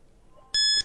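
A quiz show buzzer gives one loud electronic beep that starts abruptly after a quiet moment and holds steady for about a third of a second.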